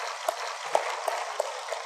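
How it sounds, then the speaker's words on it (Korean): Church congregation applauding at a Sunday service in a Full Gospel church, a steady broadband clatter of many hands with a few sharper claps standing out, no voices over it. "예수님께 박수입니다."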